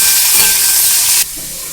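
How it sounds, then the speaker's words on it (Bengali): Parboiled small cauliflower florets sizzle in hot oil in a pan, a loud steady hiss that drops abruptly to a softer sizzle near the end. "এগুলোকে একটু ভালো করে ভাজা ভাজা মতো করে নেব।"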